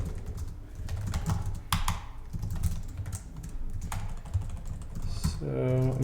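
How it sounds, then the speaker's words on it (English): Steady clicking of keys on a computer keyboard, close and continuous with irregular bursts of keystrokes and a faint hum in the background. "And you just have to type in UA."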